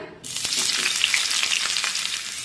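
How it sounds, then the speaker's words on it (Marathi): Thinly sliced onion sizzling in a spoonful of hot oil in a pan, a loud, steady crackling fry with small pops, heard close and alone. "आता हा कांदा आपण छान तांबूस रंगावर परतून घेऊया"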